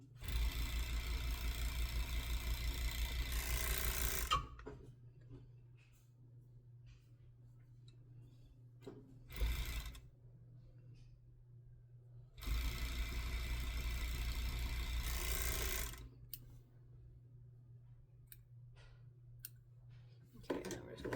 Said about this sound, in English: we're going to sew down the side seams, and we're going to sew the crotch seam.